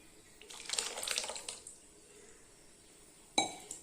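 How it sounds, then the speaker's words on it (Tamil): Cooked lentil dal, pressure-cooked with water, is poured from a vessel into a pot of mixed vegetable sambar with a soft liquid splash for about a second, then a sharp metallic clink of the utensil near the end. "இப்போ நான் பருப்பு ஊற்றிக்கிறேங்க"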